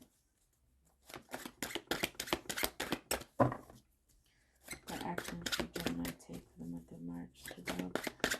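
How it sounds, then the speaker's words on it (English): Crisp rapid riffles of tarot cards being shuffled close up, two bursts separated by a short pause, with a voice speaking between and over them. "One shuffle. Two shuffles."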